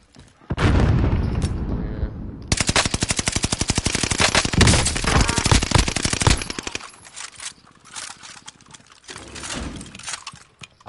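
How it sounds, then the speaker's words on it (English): A grenade blast and heavy automatic gunfire in Call of Duty Warzone: an explosion erupts, followed by a long dense rattle of rapid shots, then scattered quieter bursts and a late loud hit. "Grenade out!"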